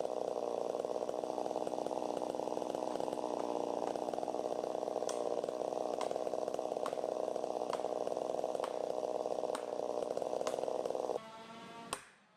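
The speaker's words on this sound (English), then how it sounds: "The skillful use of the chainsaw ensures that the tree falls exactly where intended" A chainsaw roars steadily at full throttle while felling a giant tree, a loud continuous buzzing drone for about eleven seconds with sharp cracks and snaps over it, then the engine drops to a lower idle.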